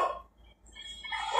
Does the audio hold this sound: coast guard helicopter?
no